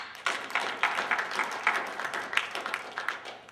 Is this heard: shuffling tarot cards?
no